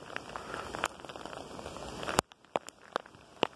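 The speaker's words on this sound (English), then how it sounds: "The hailstones there." Hailstones fall during a UK storm, a steady patter and hiss of impacts on outdoor surfaces broken by several sharp, louder individual strikes close by.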